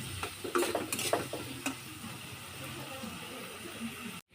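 Potatoes frying in a pan with salt and turmeric, with a few quick utensil clatters early on, then a quiet, low sizzle that carries on faintly before a brief dropout near the end.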